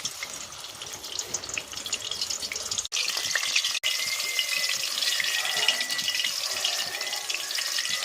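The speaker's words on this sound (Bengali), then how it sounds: "বন্ধুরা, এবার আমি কচুটা কড়াইতে দিয়ে দিলাম।" Pieces of taro fry in white oil in a kadai, giving a steady, close hiss of sizzling that carries on evenly throughout with a couple of brief breaks.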